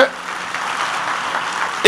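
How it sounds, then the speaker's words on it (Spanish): Brief applause from a church congregation rises as a soft, rain-like patter of clapping between spoken phrases, lasting under two seconds. "Denle un aplauso bien fuerte al Rey."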